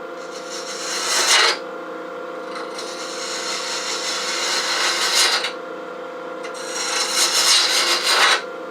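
Boxwood being hollowed on a wood lathe, a steady rasping scrape of the tool against the spinning wood, swelling in three louder passes over a constant hum, close and with no talking.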